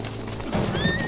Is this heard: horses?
yes